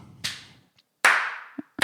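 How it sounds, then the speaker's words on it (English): Three slow, widely spaced hand claps ring out close and loud, each with a short decaying tail, with a faint tap between the first two. "You add a slow clap, you're instantly going for sarcasm"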